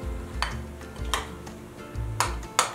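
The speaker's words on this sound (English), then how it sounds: "I'm going to stir it to combine." Mayonnaise being stirred in a bowl, heard close as a soft, thick churning with several sharp clinks of a utensil against the bowl's side, spaced irregularly.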